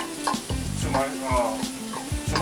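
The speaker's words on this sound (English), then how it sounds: "Now I'm going to go ahead and add my onions to my" Onions tipped onto caramelized garlic in a hot pan for lasagna, bursting into a loud close sizzle with clattering utensil knocks and scrapes, a voice heard faintly in the background.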